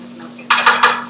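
Rice clatters and scrapes in a hot pan during quick home stir-frying, with three loud, close bursts of stirring over a faint steady hum.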